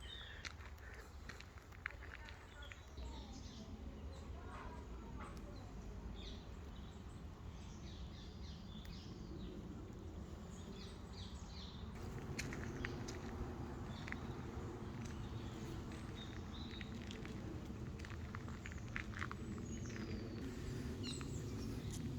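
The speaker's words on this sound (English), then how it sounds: "You can hear the different birds making their own unique sounds." Several kinds of birds chirp and call faintly in a small woodland, with scattered high notes over a soft steady outdoor background and a faint rustle of movement nearby.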